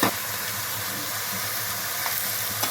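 A continuous hissing sizzle of beans in a hot pan, steady and close, with a couple of faint clinks near the end.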